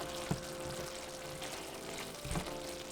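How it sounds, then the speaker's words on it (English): A pot of green chile ground beef with potatoes simmers with a soft bubbling hiss, and two brief scraping stirs of a spoon against the pan sound close by; no voices. "now we're just going to make sure that our potatoes are fully cooked. Just give it a quick mix."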